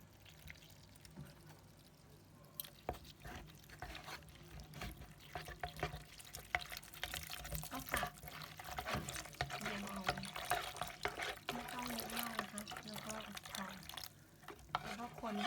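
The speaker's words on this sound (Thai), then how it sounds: "เอามาผสมน้ำนะคะ น้ำเย็นนะคะ" Starch flour being stirred into cold water for Thai tao suan dessert, with soft continuous swishing and light scraping close by, quiet throughout with a voice talking over it.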